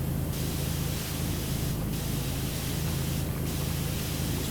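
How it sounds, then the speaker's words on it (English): Steady, loud hiss of a pressure washer jet in the PowerWash Simulator video game, cleaning an entry mat, spraying continuously throughout with brief breaks in the upper hiss. "I can just spray it like that."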